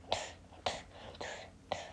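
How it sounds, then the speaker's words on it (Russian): A person coughs and clears their throat in four short, harsh bursts spread over two seconds, close by and fairly quiet, with brief pauses between each rasp. "Не кашляй, пожалуйста."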